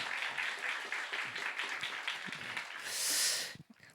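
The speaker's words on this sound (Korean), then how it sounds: "다시 한번 큰 박수로 한번 격려해 주시겠어요?" Clapping of moderate volume from a congregation at a youth worship service, encouraging a musical family after a praise song; it swells into a brief, fuller burst near the end and then stops.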